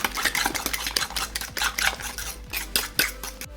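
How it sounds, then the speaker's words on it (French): Two eggs being whisked into a batter in a bowl, a quick irregular clinking and scraping of a utensil against the bowl, close and steady, with no voices. "vous venez rajouter vos 2 œufs. Et après, on vient mélanger."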